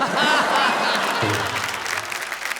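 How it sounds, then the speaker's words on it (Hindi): Loud audience applause at a Hindi poetry recital, a dense burst of clapping that thins and fades after about a second. "आपने मेरे सम्मान में इतनी जोरदार ताली बजाई"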